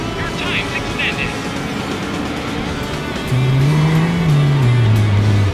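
Race car engine in the Dreamcast racing game Daytona USA 2001, a steady droning rev that climbs louder partway through with a sustained pitched whine, heard alongside game sounds and speech.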